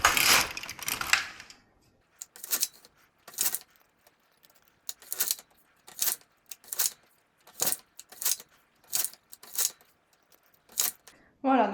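Knitting machine carriage passed back and forth across the needles, a series of rhythmic, bright rattling sweeps about every half second to second, close by, after a short stretch of talk.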